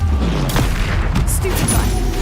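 Spell explosions cast in the video game Hogwarts Legacy: a deep booming blast with crackling bursts and pops, loud and dense throughout, with spoken spell names heard over the game sounds.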